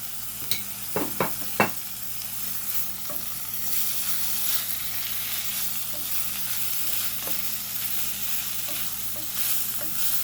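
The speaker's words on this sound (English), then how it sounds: "And just let the saltfish cook a little" Cooked, flaked saltfish fries in a pan alongside callaloo seasoned rice, giving a continuous close sizzle with a few sharp utensil knocks early on.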